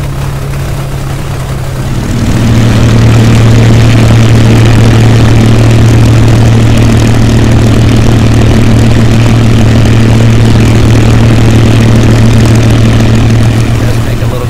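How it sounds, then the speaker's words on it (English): In a flight simulator, a P-51 Mustang taxis on a castering tail wheel, its engine rising from a low idle to a loud, steady, throbbing drone that holds without pause. "It does take a little getting used to taxiing this airplane"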